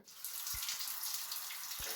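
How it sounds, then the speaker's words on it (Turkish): Water runs steadily from a shower head just repaired with scissors, a continuous close hiss of spray, with a few low thumps near the start and end. "Şu anda duş başlığımız kullanımı hazır. Bunu da bir denemesini yapacağım."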